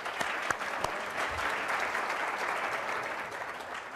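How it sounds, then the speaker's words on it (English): A room full of people at a social-good event breaks into sustained applause, a broad, even wash of clapping heard at a modest level with a few sharper claps near the start. "I think we could have a round of applause for Jane."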